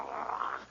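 A man imitating a dog's growl, a brief low rumbling snarl that holds for under a second, quiet and close, with no other sounds.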